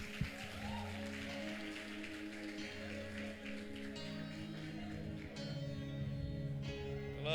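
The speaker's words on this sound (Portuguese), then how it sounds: "Salva de palmas, irmão." A church congregation claps at a theology graduation service in Fernandópolis, with steady, dense applause at moderate distance and music-like tones underneath throughout.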